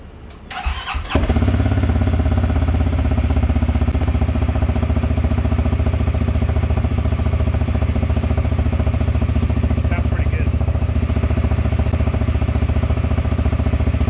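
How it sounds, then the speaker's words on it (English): A custom-exhausted 2022 CFMoto CForce 600 quad cold-starts with a brief cranking burst, then settles into a loud, steady, rumbling idle that runs on evenly with no talk over it. "do the cold start, let you know how it sounds"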